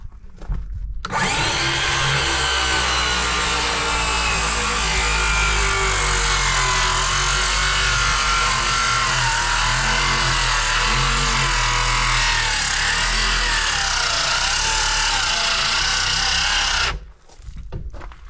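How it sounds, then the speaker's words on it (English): A battery-powered saw rips wood boards for furring the walls of a shipping container barn, cutting in one long continuous pass of loud whining and rasping, close up and alone, before stopping abruptly. "rip them with the saw, and throw them up there"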